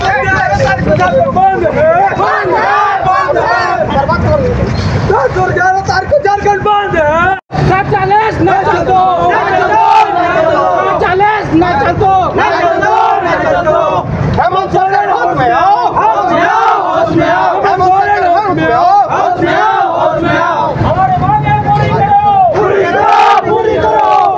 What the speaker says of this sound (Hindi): ये देखो यहाँ पे कितना ज्यादा क्रेज है कितना ज्यादा भीड़ है